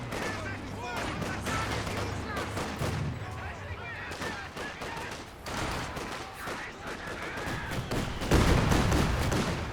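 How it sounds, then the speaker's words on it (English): Mortar shells burst among rattling gunfire and explosions in a Company of Heroes 2 match, a dense, continuous battle din with a heavy impact near the end. "Good mortar hit there."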